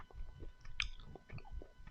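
Crunchy smoked walnuts being chewed close up, a steady run of soft crunches and mouth sounds with one sharper bite near the middle, no talking.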